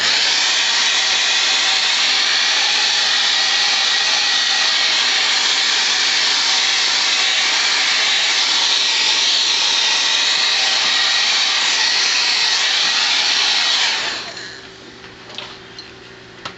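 Heat gun blowing steadily to set stencilled paint on a crankbait lure, a loud continuous airy roar that runs for about fourteen seconds and then cuts off abruptly, leaving faint handling noises.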